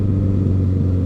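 A vintage Ariel SQ4 Square Four motorcycle engine, about 70 years old, held at a steady revving drone with a strong low hum and rumble, close and loud, with no talk.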